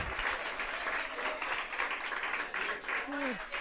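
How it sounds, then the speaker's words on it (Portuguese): A church congregation applauds during a worship service, a steady dense wash of clapping at moderate distance with a voice briefly calling out near the end. "Pode aplaudir a Jesus?"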